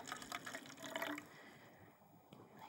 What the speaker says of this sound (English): take one of your little plastic bottles and you're going to fill it up with about an inch or so of warm water